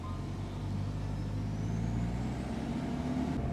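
A 4x4 vehicle drives along a bush track in the Lockyer Valley National Park, giving a steady low engine rumble with road noise, fairly faint and continuous, with no talk.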